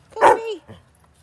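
A pet dog at home gives a single short, sharp bark close by, trailing into a quick falling yelp and then a faint soft follow-up.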